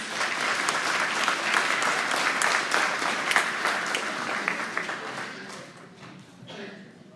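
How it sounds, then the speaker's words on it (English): An indoor audience at an elementary-school (PK-2) awards ceremony applauds its October award winners: dense, steady clapping that holds for several seconds, then thins and fades toward the end. "one more round of applause for our October winners"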